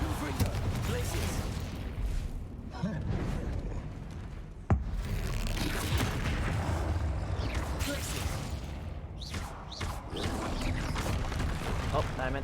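Confringo spell blasts in the Hogwarts Legacy video game land among a thick, busy battle noise, with one sharp crack standing out midway and intermittent bursts and clattering mechanisms throughout.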